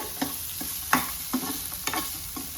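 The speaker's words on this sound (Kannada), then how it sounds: "ಈರುಳ್ಳಿ ಫ್ರೈ ಆಗ್ತಿದೆ." Onions sizzle softly in hot oil as a tempering for mango rice while a utensil stirs and taps the pan a few times, close and quiet.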